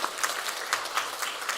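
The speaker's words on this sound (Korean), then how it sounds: "우리 박수로 축하하겠습니다." Brief applause from a church congregation at a Korean Sunday morning service, with a handful of claps standing out from a soft wash of hands, moderately distant and quick.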